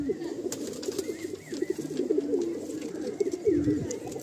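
Madrasi tournament pigeons coo repeatedly in a loft, soft rolling calls from several birds overlapping close by, with faint rustling in between.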